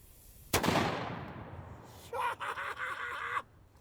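A single booming gunshot from a large single-shot gun, a sharp loud blast that decays over more than a second, followed by a rumbling rattle of echo and movement.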